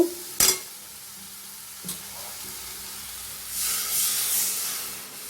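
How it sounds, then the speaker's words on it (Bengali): Water poured into a hot pan of Bhola fish curry with melted tomato, giving a sharp splash and clatter near the start, then a rising, steady steam hiss and sizzle toward the end, close by with no talk. "এবার আমি একটু অল্প করে জল দিয়ে দেব।"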